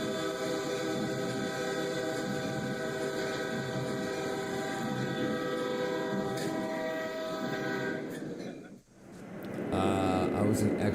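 A train rolls past on railway tracks with a loud, sustained horn-like tonal drone and rumbling wheels, the sound dipping briefly near the end before a rattling swell of cars returns.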